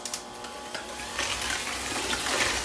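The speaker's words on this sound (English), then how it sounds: "So we're going to mix this up." Lemon chess bar filling of eggs and lemon being mixed, giving a soft continuous wet stirring and swishing sound, close and fairly quiet, with no talking.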